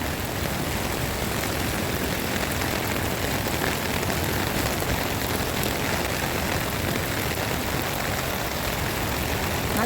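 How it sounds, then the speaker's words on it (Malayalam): Steady heavy rain pours down at a beach park by the sea, a dense, even wash of drops with a low rumble beneath, continuous and close with no voices. "നല്ല മഴയും കടലും"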